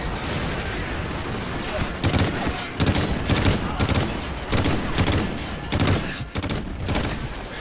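Repeated three-round bursts of rifle fire in Call of Duty Ghosts, loud clustered cracks spaced across the stretch over continuous game noise, with brief talk.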